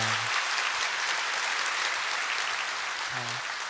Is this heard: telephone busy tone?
no